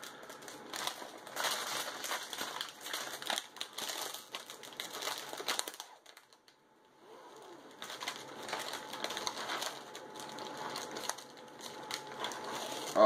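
A Chips Ahoy cinnamon sugar thins package is torn and opened, with close, dense crinkling and crackling of plastic in two long bursts separated by a short pause.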